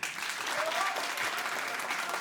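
An audience bursts into dense, steady applause that holds throughout, loud and close, with no pauses.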